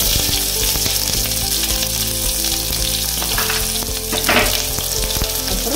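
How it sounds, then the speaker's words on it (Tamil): Onions and garlic fry in hot oil with star anise, cinnamon, fennel and kalpasi for a gram flour kurma, giving a loud, continuous sizzle with stirring scrapes and no voices. "நல்லா வெங்காயம் வெள்ளைப்பூடு எல்லாம் வதங்கிடுச்சு"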